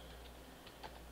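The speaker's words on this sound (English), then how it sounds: "I'm typing npx truffle instead of truffle" Quiet clicks of a computer keyboard as a command is typed, a few soft, irregular keystrokes close by over a low steady background hum.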